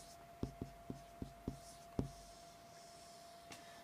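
Handwriting on a surface, heard as a run of short, distinct pen strokes with a steady tempo, then a pause and one last faint stroke, close up and quiet with no talking.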